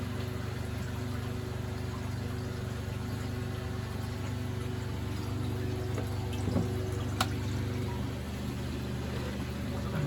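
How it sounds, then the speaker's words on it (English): Bosch WFP3300 washing machine spinning up during a 90 degree wash, with a steady low mechanical drone and continuous rushing, splashing water close by, no talk. "And as it spins, a load of water shoots out"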